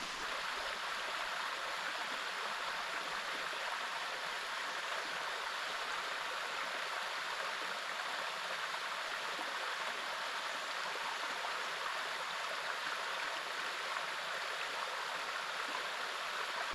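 Flowing stream water in the Australian bush, a constant, even rushing wash that stays steady from start to finish, close and moderately loud, with no talking.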